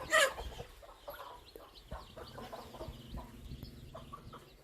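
Chickens cluck repeatedly nearby, with a sharp squawk at the start and a steady run of low clucks after it.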